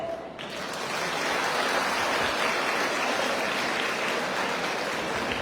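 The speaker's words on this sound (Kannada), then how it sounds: "ಚಪ್ಪಾಳೆ ಯಾಕೆ ಅಷ್ಟೇನೆ ಇದೆ" Steady dense clapping from an audience, a continuous even wash of applause sustained throughout without breaks.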